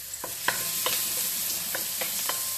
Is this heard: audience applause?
no